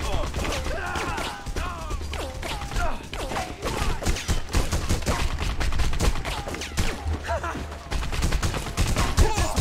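Rapid bursts of video game gunfire from The Punisher crackle in dense volleys over a steady low rumble, with raised shouting voices mixed in.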